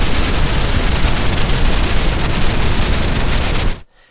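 Dense, loud hiss of white and pink noise alternating under a randomized LFO on a Polybrute synthesizer fills the whole range steadily, then cuts off abruptly near the end.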